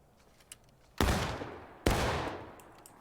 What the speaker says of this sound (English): Take aim, choose your target, start walking, and fire at will.